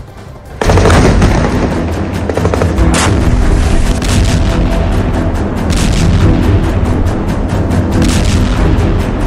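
Explosions from an Israeli air strike on Gaza thunder in a dense, continuous barrage of loud booms and cracking blasts, one burst after another with no pause.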